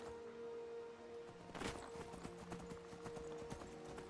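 Shadowmere, a horse in the Skyrim video game, walking with a steady clip-clop of hooves over a constant droning game soundscape, footfalls close and even throughout.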